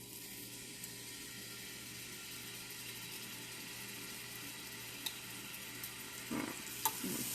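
Spices frying in a pan for a turkey recipe give a steady, quiet sizzle throughout, with a few soft clinks and stirring scrapes near the end and no talking.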